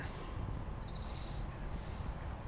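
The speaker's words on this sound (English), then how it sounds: "There it is, the sandhill crane." A sandhill crane gives a rolling, rattling call outdoors on a cold night, a short series of rapid bugling notes in the first second or so, faint and distant over quiet background noise.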